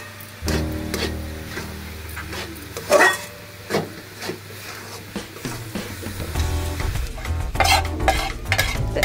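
Cashews and almonds frying in a pan for carrot laddu, a spoon stirring them with repeated knocks and scrapes against the metal over a soft sizzle.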